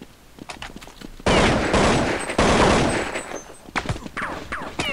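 Rapid bursts of automatic gunfire from the video game Counter Strike 1.6, loud sustained volleys with short gaps and scattered single shots around them, no talking.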